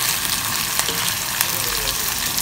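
Ginger garlic paste sizzles with onions in a pan for a Telangana-style tomato curry, a steady close crackle with occasional stirring scrapes, no voices.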